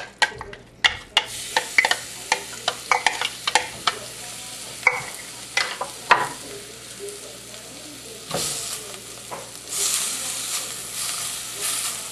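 Spices and fresh herb paste cooking in a clay pot over medium heat: a run of sharp regular stirring scrapes and knocks, then a louder hissing sizzle, close and without voices.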